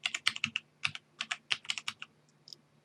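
Keys clack on a computer keyboard during an Arch Linux install, about fifteen crisp separate strokes in quick uneven bursts, close and clear with no talking.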